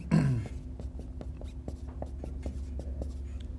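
Chalk or marker tapping and scratching on a board while writing out a math expression in a lecture, a quick series of short, regular taps at close range following a brief murmur.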